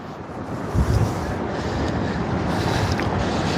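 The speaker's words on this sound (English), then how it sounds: "obviously the wind coming in from the southeast, hence why it's extremely warm here on the coast" Southeast wind blowing in off the sea on Lowestoft seafront, a steady rushing buffet across the microphone with a brief stronger gust, loud and continuous with no talking.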